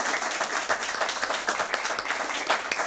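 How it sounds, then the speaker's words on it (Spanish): Audience at a Universidad Complutense de Madrid lecture claps for the speaker, a dense steady round of applause filling the room without a break. "pedir un aplauso para el ponente"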